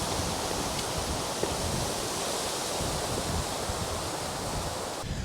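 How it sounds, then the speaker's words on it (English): Strong wind roaring steadily, a dense broadband rush with no voices, loud and continuous throughout. "It's super windy and quite cold."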